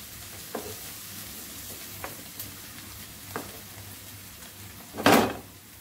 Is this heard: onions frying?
yes